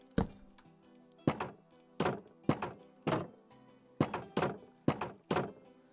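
A series of dull, heavy thunks, about ten in uneven succession, of a double door repeatedly slamming shut in Minecraft, each with a short resonant tail, no voices.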